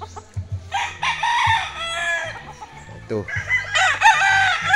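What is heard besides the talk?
fighting cock stag crowing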